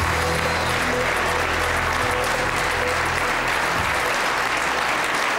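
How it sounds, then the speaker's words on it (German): A studio audience applauds at a German talk show recording in Hamburg, dense continuous clapping that fills the room evenly at full volume, with a low hum beneath and no voices. "Applaus."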